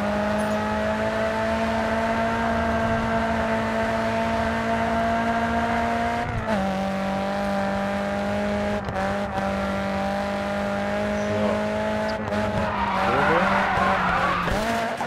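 A car drifting in the racing game Racedriver GRID 2: a loud, sustained engine drone with long tire squeals and skids that shift pitch at several moments, a continuous close game soundtrack without speech.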